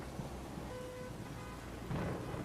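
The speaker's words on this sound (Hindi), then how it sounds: "बारिश अब और तेज होने लगी थी।" Steady rain hisses throughout, with a low rumble of thunder swelling near the end; fairly quiet and distant overall.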